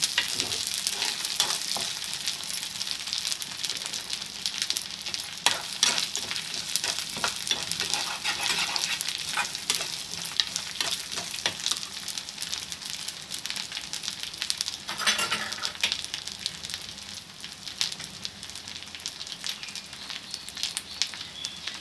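Curry leaves sizzle and crackle steadily in hot oil in a pan for a gongura and egg pachadi, a dense continuous fry with occasional stirring scrapes, close and fairly loud with no talk.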